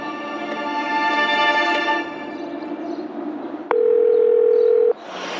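A single sustained electronic telephone tone sounds for about a second, clear and close, after a softer humming tone fades out.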